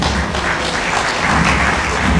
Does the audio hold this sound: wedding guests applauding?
yes